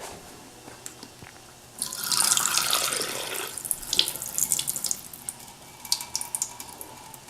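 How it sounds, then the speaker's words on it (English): Boiled water strained off cooked quinoa, a hissing pour into a sink that swells loudly for a few seconds then drops into scattered drips and trickles, with no voice over it. "So what I'm going to do is I'm just going to strain my water"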